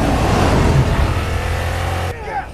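A Toyota Tundra pickup's beefed-up engine roars in a sustained, loud rev, close and full-bodied, then cuts off abruptly near the end.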